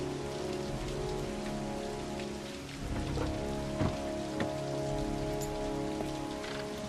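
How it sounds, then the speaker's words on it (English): Steady rain patters on surfaces in Heavy Rain, close and constant, with a few heavier drops and thuds standing out. "And of course, rain."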